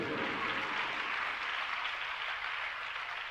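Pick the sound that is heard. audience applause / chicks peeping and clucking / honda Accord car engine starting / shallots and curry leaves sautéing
audience applause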